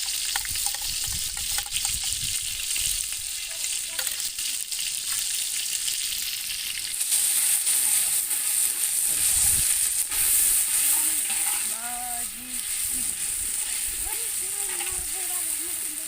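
Masala of garlic, coconut, coriander and ginger frying and sizzling steadily in a pan for a village-style desi chicken biryani, a continuous loud hiss with occasional stirring and voices talking over it.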